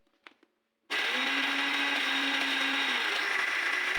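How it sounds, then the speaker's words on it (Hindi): A kitchen mixer grinder grinding roasted homemade nihari spices switches on abruptly after a brief quiet moment, then whirs loudly and steadily at close range. "मैं इसको एक मिक्सी में ऐड करके ना इसको मैं पीस लूँगी।"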